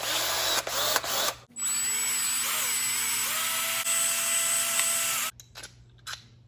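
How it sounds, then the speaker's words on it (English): A power drill with a 1/4 inch bit bores out holes while replacing the handbrake on a 2005 Polaris Sportsman 700; one steady close whine runs for about four seconds, with shorter bursts of drilling before and after. "What I'm going to do is I'm going to drill these out and then run them through"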